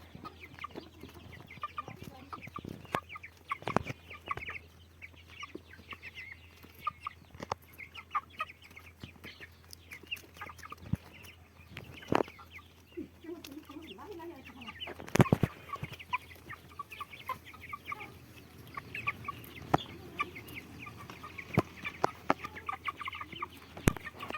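Broiler chickens cluck and murmur softly over a quiet farmyard background, with scattered sharper clucks and occasional bumps throughout.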